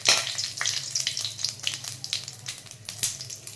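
Whole cumin, whole garam masala, a bay leaf and a dried chilli frying in hot oil give a steady close sizzle with small crackles and pops throughout, no voices.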